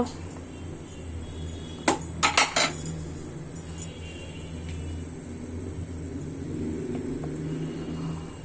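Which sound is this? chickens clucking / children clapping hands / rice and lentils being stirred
rice and lentils being stirred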